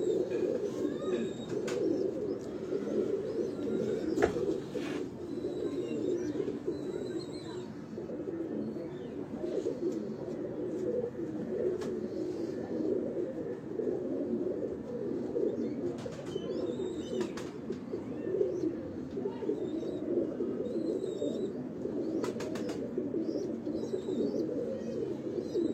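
Kashni breed pigeons on a Lahore rooftop coo in a continuous, dense, low murmur from many birds close by, with a few faint chirps and clicks above it.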